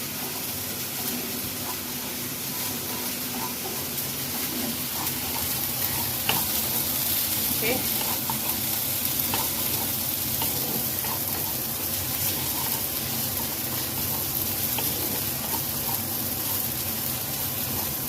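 Spice masala for malai egg curry sautéing and being stirred in a pan, a steady close sizzle with scraping stir strokes throughout, and a brief word spoken once.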